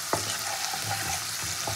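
Ground onion paste fries in a pan with a constant soft sizzle, broken by a few sharp scrapes and clinks as a spoon stirs it, close and alone.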